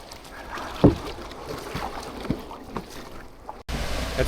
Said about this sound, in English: so I paddled over on Uncle's kayak